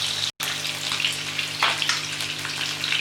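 Fish for fish curry fries in a pan, giving a soft, even sizzle with light spitting crackles, close and steady apart from a brief dropout near the start.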